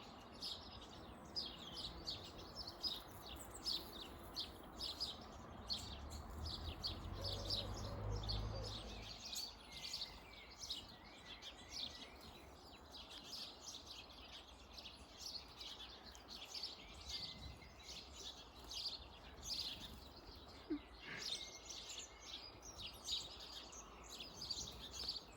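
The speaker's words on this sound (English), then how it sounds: "The birds are making me laugh. They're so loud." Birds chirping loudly and busily nearby in a spring cottage garden, a dense stream of high tweets and calls that goes on throughout, with a low rumble early on.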